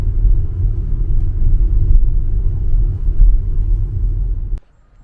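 A car rolls slowly through a holiday village in January, giving a steady low engine rumble and tyre noise from inside the vehicle that cuts off abruptly near the end.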